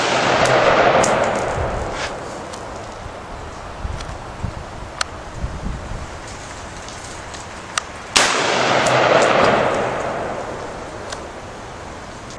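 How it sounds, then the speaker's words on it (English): Two loud, sharp AR-15 rifle shots ring out at an outdoor shooting range, the first at the start and the second about eight seconds later, each followed by a long decaying echo, with faint clicks and handling noise between them. "I just fired 5 rounds"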